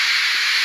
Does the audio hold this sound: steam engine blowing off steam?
yes